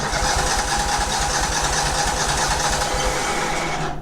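Kohler Command single-cylinder engine on a Craftsman GT5 garden tractor runs steadily after starting with the choke on, a close, loud, even rapid chugging that holds for several seconds and then cuts off.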